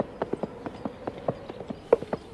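Coconut halves clapped together to imitate horse hooves give a steady run of hollow clip-clop knocks, faint and fairly quick, in the film scene from Monty Python and the Holy Grail.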